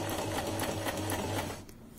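A semi-automatic sewing machine stitches a buttonhole using its matching presser foot, a fast steady mechanical whir with a rhythmic needle patter that stops near the end, close and loud with no talking over it.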